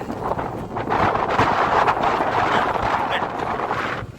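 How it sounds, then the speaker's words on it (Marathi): Strong wind buffets the microphone in loud, rumbling gusts that swell and ease throughout, with faint background noise beneath. "वारा वारा भरपूर सुटलाय"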